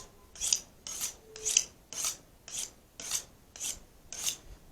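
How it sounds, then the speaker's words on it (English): A knife blade is drawn over a honing steel in eight even rasping strokes, roughly one every half second, close and moderately loud with no voices. "we're going to straighten our blade back up after honing it."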